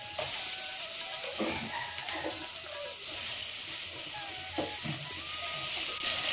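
Tomatoes and onions frying in a pan, a continuous sizzle with intermittent stirring scrapes and light clinks, close up and without speech.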